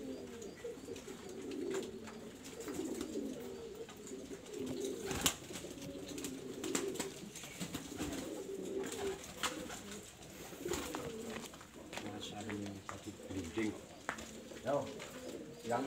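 Racing pigeons coo in low, soft throaty rolls near and far during a selection session, with scattered clicks and flutters and people talking quietly in the background.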